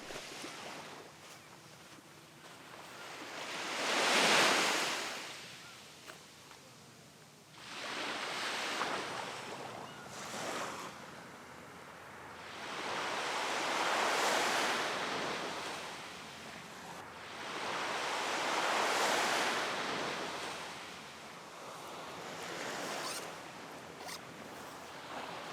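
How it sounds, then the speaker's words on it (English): Strong sea waves and wind at a coastal spot: broad surf surges swell and fade several times over a constant blustery roar, with wind buffeting the microphone and no voices. "the waves and wind were too strong, so my microphone failed"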